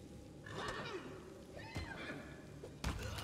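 Horse neighing in the fantasy role-playing game Pathfinder: Wrath of the Righteous, a few loud whinnies over a busy game soundscape with hoof and impact noises during combat.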